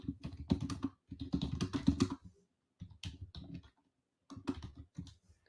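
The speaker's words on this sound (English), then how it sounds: "I'm typing in our group." Clicking keystrokes on a computer keyboard come in quick close bursts, pausing briefly between runs of typing, close and fairly quiet.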